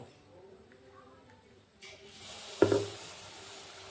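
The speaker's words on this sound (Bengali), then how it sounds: "আমি এইভাবে সবগুলো একটা একটা করে সবগুলো ভেজে নেব।" Kalai dal malpua batter dropped into hot oil: a quiet stretch gives way to a sudden hissing sizzle that swells sharply as the batter hits the oil, then keeps bubbling close by.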